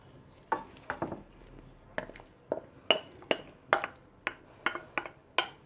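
Crispy fried pieces for a Turkish meatball pilaf tumble and scrape into a pan in a quick series of clattering, rustling bursts, close and fairly loud, with no talking.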